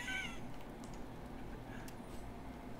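A cat meows in the multiplayer video game Witch It, a short faint mewing call at the start over steady game background noise.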